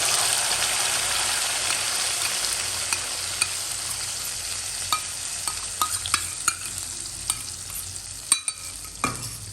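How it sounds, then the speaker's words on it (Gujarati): Onion purée fries in oil and ghee with cumin, making a dense, steady sizzle. Occasional spoon clicks and scrapes grow more frequent toward the end, and no one speaks. "જ્યાં સુધી ડુંગળીની પ્યુરી છે સારી રીતે સંતળાઈ ન જાય અને તેલ છોડવા ન લાગે ત્યાં સુધી એને પકાવી લઈએ"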